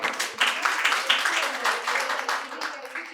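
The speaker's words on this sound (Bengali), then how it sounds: "শ্রেয়ার জন্য আবার জোরে হাততালি হয়ে যায়।" An audience applauds a winner at a quiz competition held at Santiniketan Medical College and Hospital. The clapping is close and sustained, rises and falls in waves, and has some speech mixed in.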